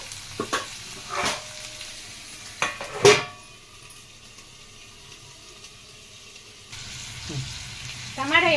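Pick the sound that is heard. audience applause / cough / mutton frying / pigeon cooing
mutton frying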